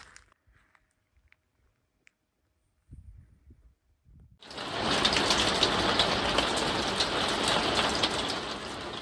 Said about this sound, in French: On se sera finalement fait rattraper par la pluie